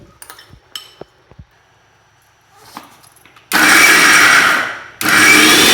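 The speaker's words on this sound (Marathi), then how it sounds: "कांदा पण आपण जाडसर वाटून घेणार आहे आणि त्यात हिरवी मिरची आणि लसूण" A few light clinks, then a mixer grinder roars into a loud whirring grind of onion, green chilies and garlic, stops briefly, and starts again.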